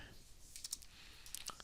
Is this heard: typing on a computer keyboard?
yes